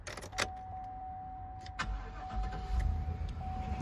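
A 3/4 ton Suburban truck cranks and starts, a few brief clicks and a whirr before the engine catches into a low, rumbling idle, close up with a faint steady whine in the background.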